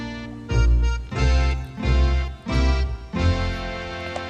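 Child singing the Tagalog birthday song "Maligayang Bati", four sung phrases in a steady rhythm, close and clear with no other voices.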